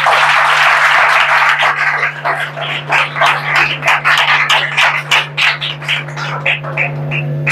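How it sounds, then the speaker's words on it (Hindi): Audience applause at a talk by a transgender painter, honouring transgender women seated on stage: a dense burst of clapping that thins after a second into scattered, uneven claps over a steady electrical hum. "उनके लिए जोरदार तालियां होनी चाहिए।"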